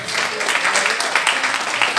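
Church congregation giving a short, dense burst of applause, steady and fairly loud, with faint voices underneath.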